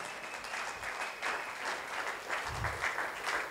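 Sustained applause from a church congregation during a sermon, a steady, even wash of many hands clapping at moderate distance with no break.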